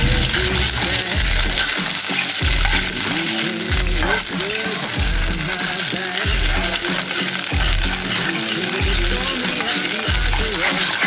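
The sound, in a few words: paneer chilli being stirred in a pan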